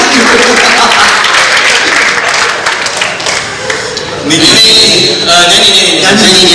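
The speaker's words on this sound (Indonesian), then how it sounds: "Ayo dong tepuk tangannya boleh dong ya" Loud crowd applause at a church blessing dinner, sustained clapping mixed with voices and background music, swelling again toward the end.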